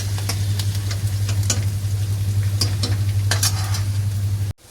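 Ginger frying in a pan while cooking chicken Manchow soup gives a continuous sizzle with scattered crackles over a steady low hum, which cuts off abruptly at the end.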